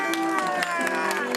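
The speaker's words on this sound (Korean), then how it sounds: "북소리와 함께 여기저기 터져나오는 후배들의 우렁찬 응원의 함성" High-school students cheer loudly and shout in support of seniors leaving to sit the college entrance exam, with drum beats among the crowd noise in a brief, dense burst.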